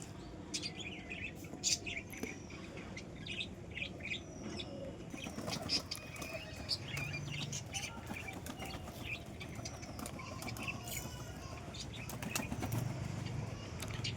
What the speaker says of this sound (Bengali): দেখতে পাচ্ছ কবুতরটি উড়ার জন্য কেমন করছে